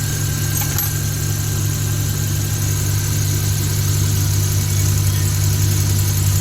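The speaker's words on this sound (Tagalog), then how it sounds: "At ah, umistart na rin ang makina." A Suzuki DA64W engine idles steadily after starting, a loud, constant low hum with mechanical vibration and no talk over it.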